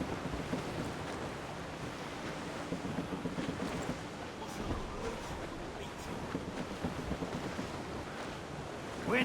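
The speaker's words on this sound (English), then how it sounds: "Wind's getting vicious." In Assassin's Creed Rogue, a strong wind roars over the open sea around a sailing ship, with gusts, rushing waves and low rumbles, steady throughout with a burst at the end.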